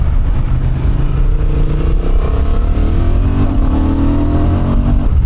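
A Honda Transalp 750 motorcycle's engine runs hard in sport mode, a loud continuous droning roar with pitch climbing gradually as revs rise, heard close up with wind rush.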